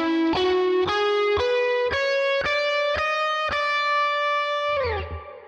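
A distorted electric guitar plays an alternate-picked lick, with about eight evenly spaced notes climbing in pitch, each sharply attacked and sustained, ending with a slide and fade, alone with no talking.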